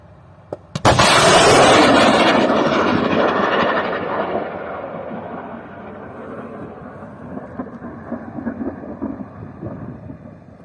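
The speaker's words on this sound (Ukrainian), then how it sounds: "Зняли момент попадання і вибуху на відео і виклали в інтернет." An anti-tank guided missile strikes a water tower in wartime and explodes: one sudden, very loud blast followed by a long rumbling roar that slowly fades into drawn-out debris and echo noise, with no talk.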